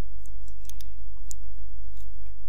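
Computer mouse clicking, several crisp, faint clicks at uneven intervals over a steady low hum, close and with no talk.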